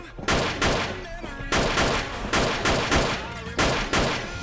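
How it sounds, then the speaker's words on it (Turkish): Pistol gunshots in the video game Wolfteam, five loud sharp shots spaced about one second apart, each with a short decaying ring, close and alone. "Bunun mermisi bitene kadar abi bununla vuruyorum"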